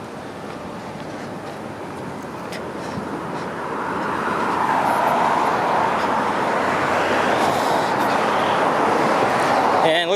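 Road traffic along Weston Road in North York, Toronto, with construction nearby, forms a broad steady wash of passing cars that swells louder partway through and continues as a dense roar.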